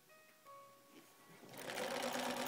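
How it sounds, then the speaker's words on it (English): Sewing machine stitching around the edge of a fabric pioneer bonnet, starting quietly and building into a steady, close, continuous whir with no talk over it. "you'll put that into the sewing machine, and you'll stitch all the way around"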